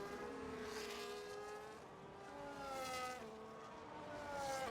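Race car engines in a Singapore racing game, rising and falling whine of revving and gear shifts, fairly close and continuous with no talk.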